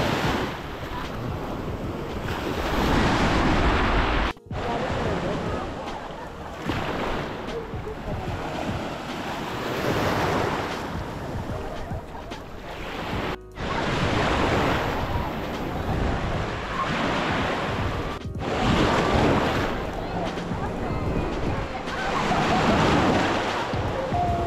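Ocean waves surge and break in long rolling swells, with heavy wind buffeting the microphone and a constant roar outdoors.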